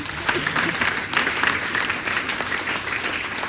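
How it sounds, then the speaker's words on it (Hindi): Dense audience applause fills a seminar hall during a motivational sales meeting, a steady, loud wash of many hands clapping that holds for the full few seconds with some murmuring voices underneath. "बहुत बढ़िया, जोरदार तालियां होनी चाहिए आपको।"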